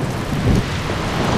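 Rain falls steadily during a fishing trip after a school of skipjack, a dense, even hiss with low rumbling underneath and no talk.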